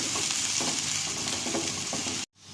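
Two medium onions frying in hot oil for a ridge gourd (turai) sabzi, a loud, dense, close sizzle with faint stirring underneath that continues steadily before stopping abruptly near the end.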